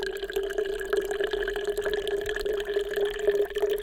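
Saponin-rich leaf liquid being poured, trickling and dripping as it froths into bubbles, close and steady with no voices.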